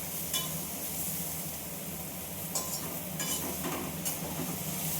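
Chopped onion and garlic sizzle and fry in a hot kadai (wok) while being stirred, a steady close crackling hiss with occasional scraping stirs, and no talking.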